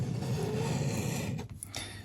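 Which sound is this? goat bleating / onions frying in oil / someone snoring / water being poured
someone snoring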